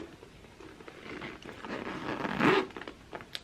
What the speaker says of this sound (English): I'm gonna demonstrate the zipper opening and closure